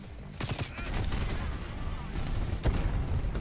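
Rapid automatic gunfire from a Call of Duty strafe run killstreak, an aircraft raking the ground with bursts that roll on continuously over a dense battlefield din, loud and close throughout.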